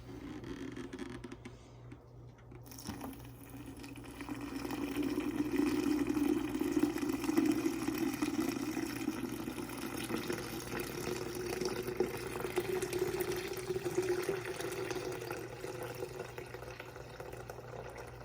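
Water pours steadily into a Brita filter pitcher, a soft continuous splashing rush that starts after a brief quiet moment and keeps running at an even level.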